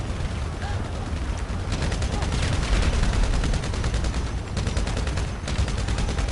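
Dense, rapid gunfire in the online shooter world of GTA Online rattles almost nonstop in bursts and volleys, loud and close, with voices mixed in beneath the shooting.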